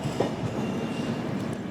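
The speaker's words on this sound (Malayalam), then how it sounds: "രാജറാണി ജസ്റ്റ് കയറി വരുന്നു." Rajarani Express pulled by a WAP-4 locomotive arriving at a station at night, a steady rolling rumble with faint wheel clicks, continuous and moderately close.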